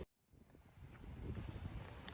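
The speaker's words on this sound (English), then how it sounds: "We're at the beach, and it's very windy today." Strong wind buffeting a microphone at a beach on a stormy day at Pinery Provincial Park, a low rumbling roar that swells steadily after a brief lull at the start.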